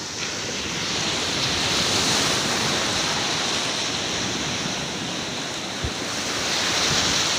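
Ocean surf breaks on the shore on a windy morning at the seaside, a steady loud wash of churning water with gusts of wind noise and no voices.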